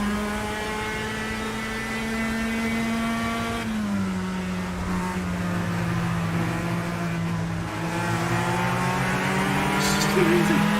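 A race car engine in a racing video game drones at a steady high pitch, dipping slightly as it shifts before climbing again, continuous and loud throughout.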